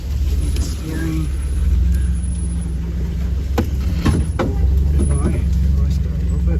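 A 4WD vehicle crawling along a short, rough jungle-like offroad track near Coffs Harbour, its engine a steady loud low rumble with occasional revs and knocks, close up throughout, with people talking over it.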